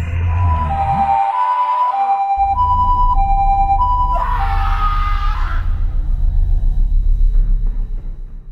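An ambulance siren wails in a horror video game, a loud sustained two-tone sweep rising and falling over a low rumbling backdrop, with a scream-like swell partway through.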